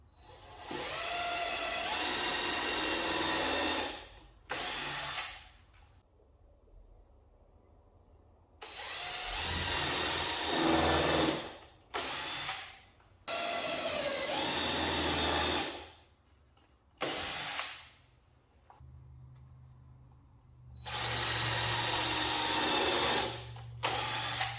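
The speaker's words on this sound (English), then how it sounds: "You take a sinker bit, put where you want the screws at." A countersink bit drills screw holes in a wooden coffin, heard as several loud, close whirring bursts of a few seconds each, separated by short quiet pauses.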